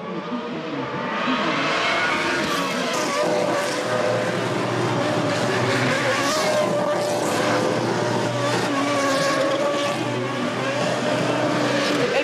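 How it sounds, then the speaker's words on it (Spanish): Formula 1 and GP2 race cars at a street demonstration on Paseo de los Próceres in Caracas, engines roaring loudly and continuously with rising and falling whine as cars pass, plus crowd noise around. "una demostración de la Fórmula 1 y GP2 en el Paseo de los Próceres, donde numerosas personas disfrutaron el rugir de los motores"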